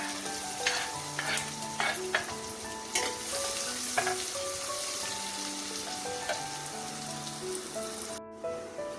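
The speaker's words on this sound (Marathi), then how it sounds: "लसूण पाकळ्या ते कांदा टाकून घेऊया." Garlic cloves and onion sizzle in an oiled pan for a ridge gourd and val dal dish, with a spoon clinking and scraping repeatedly while stirring; no voices.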